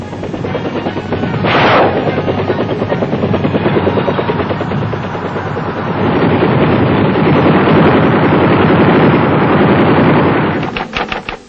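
Military helicopters fly over, rotors thumping in a steady rapid beat, loud and continuous, with a rising whoosh early on and the rotor noise swelling and fading.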